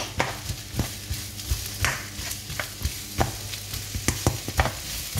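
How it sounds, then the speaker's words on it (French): Onion, garlic and pepper stirred in an oiled pan for chili con carne, with a steady sizzle and repeated scraping strokes of a spoon against the pan, close and fairly loud, no voices. "On mélange."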